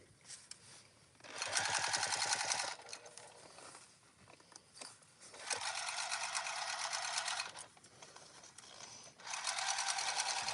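A sewing machine stitches a tote bag seam with webbing handles in three fast, steady runs, each a couple of seconds long and separated by short pauses.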